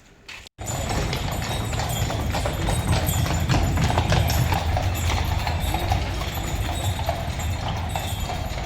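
Hooves of a horse pulling a traditional carriage clip-clop in a steady rhythm on the streets of Nuremberg, close and clear, beginning abruptly after a brief quiet start with light street ambience behind.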